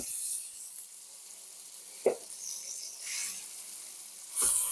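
Vegetables for chicken noodle soup sauté in a pot with a steady, soft sizzle and hiss, broken by a couple of brief stirring scrapes.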